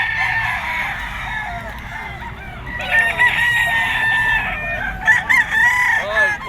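A sinibalang yellow-legged gamefowl rooster crows loudly and close several times, with long drawn-out calls over the background clucking of other fowl.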